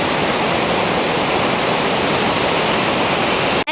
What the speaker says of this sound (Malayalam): ചുറ്റും മരങ്ങളും പച്ചപ്പിനിടയിലൊരു വാട്ടർഫോൾസ്